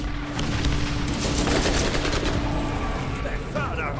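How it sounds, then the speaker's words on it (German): Rocket launcher fires in the Borderlands shooter on PC, with dense, rapid bursts of blasts and explosions crackling loudly throughout, and a brief rising whine near the end. "das ist mein neuer Raketenwerfer"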